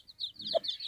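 Hen clucking near her young chicks on a rural farm, a short low cluck close by with high peeping chirps from the chicks running through it.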